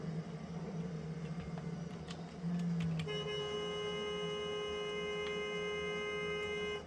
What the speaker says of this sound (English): And now he was honking for him to stop.